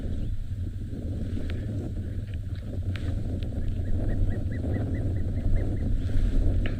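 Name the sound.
wind blowing in open savanna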